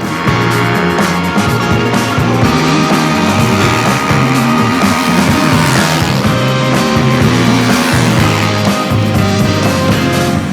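A 2023 Husqvarna FC450 dirt bike running without radiators roars at full throttle in a drag race, its engine loud, close and sustained, with a dense buzzing drone that shifts pitch slightly as it pulls.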